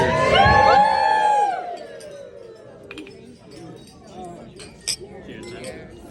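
Glasses chink together amid a lively crowd, with cheering and voices at the start, then scattered clinks and chatter fading into the room.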